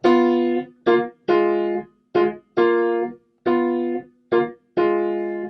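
Piano plays pairs of notes together in a slow sequence of about eight separate strikes, each ringing briefly and fading, clear and close with no talking.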